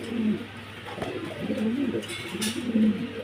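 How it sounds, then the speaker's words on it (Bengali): Repeated soft cooing from a large-breed male pigeon beside a hen, several rolling calls in a steady rhythm, close by and moderately loud over faint background hiss. "নট ডাকতেছে পাশাপাশি ডান পাশেটা মাদি কবিতর"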